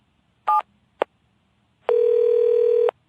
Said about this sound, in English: Mr. Williams picked up the phone and dialed his home number.